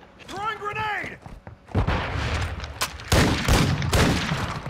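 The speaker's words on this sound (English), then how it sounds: "Throwing grenade!" Grenade blast in a Call of Duty private match: a loud, close burst of broadband noise lands after a short shouted voice, followed by further heavy bursts of gunfire and booms.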